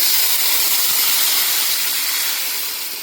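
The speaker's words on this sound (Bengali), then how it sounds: "এরপরে দেবো এখানে জল, যেহেতু মাছের ঝোল করবো" Water poured into a hot pan of fried potatoes and onion-garlic spice paste for a village-style fish curry, a loud continuous sizzling hiss that holds for several seconds and then begins to ease.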